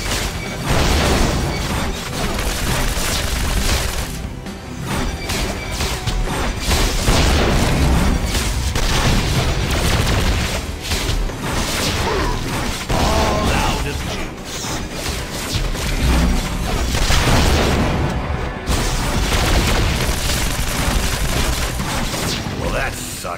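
Guns and explosions in Marvel Heroes Omega fill the whole stretch with loud, dense, continuous fire, booms and crashing game effects, and a voice speaks briefly within the din.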